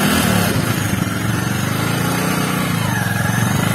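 A Bajaj Avenger 220 Cruise motorcycle engine runs steadily and loud up close, a continuous buzzing drone as the bike pulls away, with no talk over it.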